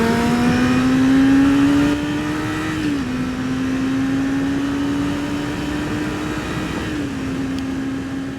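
A Yamaha R6 sport bike holds a steady, droning engine note on the road, with the pitch rising slightly, dipping around gear changes and then settling again, loud and continuous throughout.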